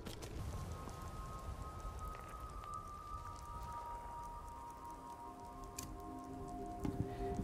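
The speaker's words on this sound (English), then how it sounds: "the rain might actually make me get cold faster, so it has to go" Steady rain falls in a survival-mode video game, a dense, even hiss of drops on surfaces that holds at a constant level throughout with no voices.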